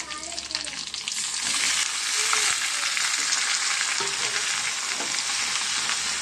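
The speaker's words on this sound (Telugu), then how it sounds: "దీంట్లో బీరకాయ ముక్కలు వేసుకున్నామండి." Ridge gourd pieces frying in a little hot oil after a tempering, a steady loud broadband sizzle that swells after the first second and holds, with occasional stirring scrapes and no talk.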